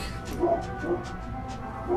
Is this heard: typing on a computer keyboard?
no